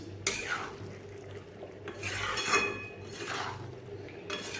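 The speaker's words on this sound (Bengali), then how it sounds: "মশলা দিয়ে আমি এইভাবে মিশিয়ে মশলার সঙ্গে ভালোভাবে এইভাবে মিশিয়ে নিচ্ছি" Bottle gourd being stirred with spice paste in a pan, giving soft repeated scraping rubs of a utensil against the pan in broad bursts, close and moderately quiet over a low steady hum.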